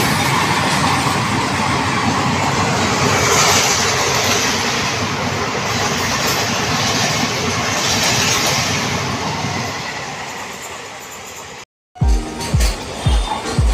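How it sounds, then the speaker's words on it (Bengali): A passenger train pulls away and runs on Indian rail, giving a loud, steady roar of wheels and rushing air with faint clicking, cut off near the end by a brief break and then a few heavy thuds. "তো বন্ধুরা ট্রেন ছেড়ে দিয়েছে"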